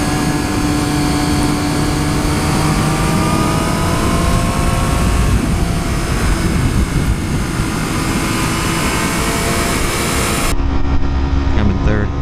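Triumph Street Triple R motorcycle from 2014 pulling hard in second gear while riding, a loud continuous engine drone with rising and falling revs and heavy wind rush, steady throughout before cutting off near the end.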